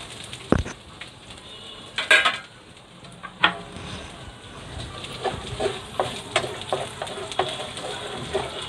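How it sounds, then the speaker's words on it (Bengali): Chopped garlic frying in butter for rice sizzles with a steady hiss, broken by the clink and scrape of stirring against the pan and a few sharper knocks. "আমি বাটার মধ্যে রসুনটা দিলাম"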